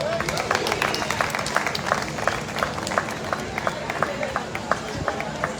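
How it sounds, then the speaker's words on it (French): An outdoor audience at a patronal festival in Le Robert claps in a steady rhythm, each clap a distinct, fairly close beat, while a voice talks over it. "Merci pour les applaudissements, merci d'encourager cette jeunesse active."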